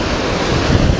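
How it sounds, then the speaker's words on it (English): Calm ocean waves roll in steadily on a beach, a close, loud wash of surf roughened by wind buffeting the microphone, with no voices. "the waves are very, very calm and rolling in quite nicely"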